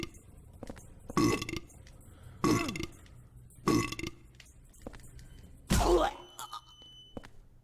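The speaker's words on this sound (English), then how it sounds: "Burping nurses, isn't that great?" A nurse enemy in the video game Silent Hill 4 lets out four loud, deep burps at roughly even intervals, each one short and guttural, with faint game ambience in between.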